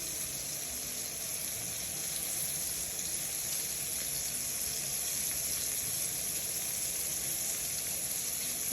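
Veal slices brown in a hot pan with a steady, even sizzle and frying crackle that holds at moderate loudness throughout, with no voices.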